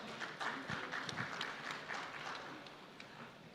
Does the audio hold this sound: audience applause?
yes